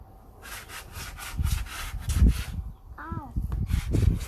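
Wood is sanded by hand in quick, rhythmic back-and-forth rubbing strokes, close and fairly loud, with a voice briefly speaking partway through.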